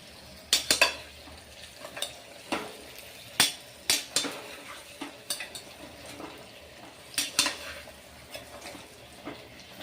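Stuffed brinjal curry stirred in hot oil in a pan, steady soft sizzling broken by repeated sharp scrapes and clinks of a spoon against the pan, close by and without talk.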